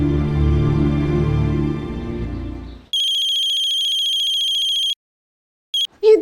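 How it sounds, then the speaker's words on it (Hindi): A telephone ringtone trills steadily for a couple of seconds, stops, then starts again briefly, following a murky stretch of low background sound. "अरे कब से फोन बज रहा है, उठाती क्यों नहीं?"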